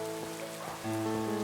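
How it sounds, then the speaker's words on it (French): Steady rain patters and hisses in the Pokemon Violet video game, a soft continuous wash under sustained game music tones, with no voices. "il pleut"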